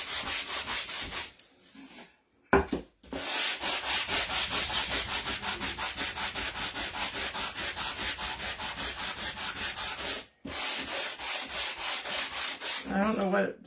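Sandpaper rubbing along the edges of a painted wooden Christmas sign, a steady close scratchy rasp in quick repeated strokes with two brief pauses partway through.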